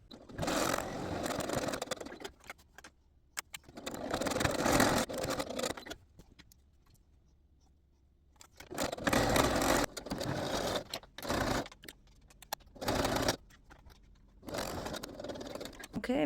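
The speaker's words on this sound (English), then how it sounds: "Enjoy some sewing." A sewing machine stitches two quilts together for a duvet cover, running in several bursts of steady whirring with quiet pauses between them and no talk.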